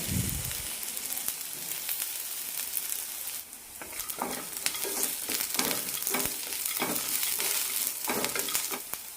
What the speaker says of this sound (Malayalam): സവാളയ്ക്ക് ചെറിയൊരു ഗോൾഡൻ കളർ വരുന്നവരെ വഴറ്റി കൊടുക്കണം